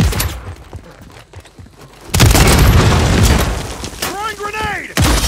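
An explosive charge in the Warzone video game detonates with a sudden loud boom partway through, leaving a sustained roar of blast and debris, followed by chirping electronic sweeps and another burst near the end, after quieter crackling beforehand.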